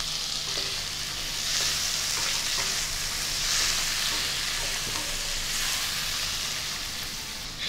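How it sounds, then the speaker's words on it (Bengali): Chotpoti ingredients sizzle steadily in a hot pan on a Kolkata street-food stove, a continuous hiss of frying broken by soft scrapes of gentle stirring, close and fairly loud with no talking. "হালকা নাড়াচাড়া করে ভেজে নিচ্ছি।"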